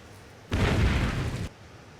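A missile strike explodes in the naval combat game Naval War: Arctic Circle, as an Aster or Seawolf missile hits an incoming Exocet. One loud one-second blast with a broad rumbling body, alone, with quiet hiss before and after.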